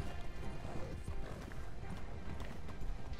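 Rapid hoofbeats of a galloping horse in a video game thud continuously up close, mixed with game-like background noise and a faint voice.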